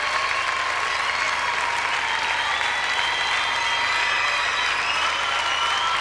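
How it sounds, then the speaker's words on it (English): A crowd at a ballroom dance championship in Denmark applauds the dancers with sustained, dense clapping that stays loud and even from start to finish, with a few faint cheers mixed in. "as you can hear, the crowd just loved it"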